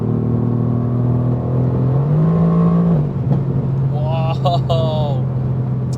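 A 585 hp Mercedes-AMG GTR on the autobahn, its engine drone steady and then rising in pitch as the car pulls harder, carried over constant road and wind roar heard from inside the cabin.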